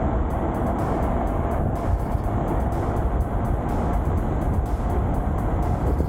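A Glidezone JL86 Pro dual-motor electric scooter accelerates gently, giving a steady, loud rush of wind and road roar with a faint motor whine, continuous and without talk.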